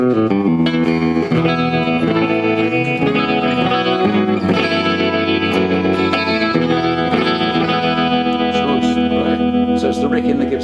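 An electric guitar plays chords and melodic lines through a Fender Tonemaster Series Deluxe Reverb amplifier in a guitar shop, loud and clear with reverb and a slightly driven tone.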